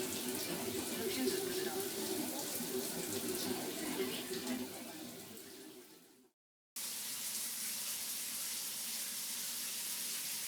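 Water runs steadily in a shower, a dense hiss that breaks off in a brief silence and then resumes at a lower, duller level.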